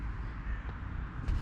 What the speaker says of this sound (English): We got some crows.